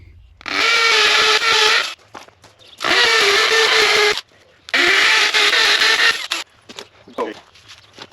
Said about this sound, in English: you just drill a 3/8 hole into your concrete